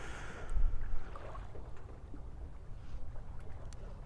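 A 13.5-ton Hallberg-Rassy 44 sailing yacht moves through the water, giving a soft, continuous rush and swish of water along the hull with a stronger surge near the start.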